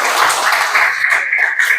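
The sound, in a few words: applause for students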